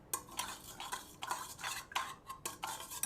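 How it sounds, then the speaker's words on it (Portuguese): A spoon stirs yeast into warm water in a bowl, making rhythmic, fairly close scraping and swishing strokes that repeat every half second or so, with no voices. "nós vamos misturar um pouquinho com a colher"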